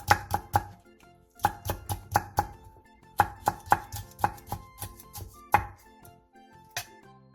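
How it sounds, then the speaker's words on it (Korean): A knife finely chops halved red Cheongyang chili peppers on a cutting board in quick bursts of crisp, close taps, pausing briefly between runs. "청양 홍고추 한두 개를 길게 반으로 가른 뒤 쫑쫑 썰어주세요."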